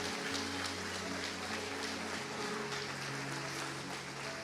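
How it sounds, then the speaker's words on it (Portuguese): Church congregation applauding during a sermon, a steady wash of many hands clapping at moderate distance over a sustained organ or keyboard chord in the background. "Vai, pode aplaudir, irmão."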